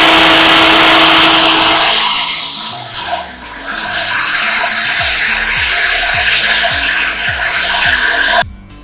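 DH330 jointer-planer running to clear leftover wood chips from its rollers and blade, a loud continuous roar with rhythmic rubbing pulses, cut off abruptly near the end.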